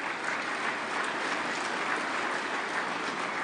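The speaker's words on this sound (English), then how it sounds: "Folks, let's give all of our contestants and our judges a big round of applause." Steady, dense applause from an audience for contestants and judges at a 2022 senior finals competition, a continuous wash of clapping at even loudness throughout.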